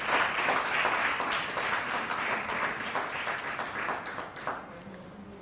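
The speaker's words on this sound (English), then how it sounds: "A big round of applause for all the women who are here" A crowd at a university inauguration ceremony in India applauds steadily, a dense wash of clapping that holds strong and then slowly thins out toward the end.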